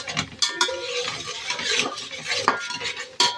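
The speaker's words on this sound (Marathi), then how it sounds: "अशा प्रकारे मसाला भाजून घेतला सगळा." A spoon scrapes and clinks against a pan as spice masala is stirred and roasted, irregular close stirring strokes over a faint low sizzle.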